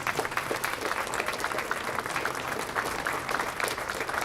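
A dense, steady wash of applause from a crowd at an outdoor Pride flag-raising ceremony, many hands clapping together at an even level for the whole stretch, with no voices standing out.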